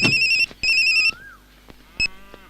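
A phone ringtone plays in three loud, close electronic bursts of bright, steady tones, two long rings followed by a shorter one, with a brief warbling sweep and low background hum in between.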